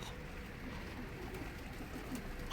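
Racing pigeons cooing in a loft, soft low murmuring coos running steadily through the short stretch over a faint background hiss, with no talking.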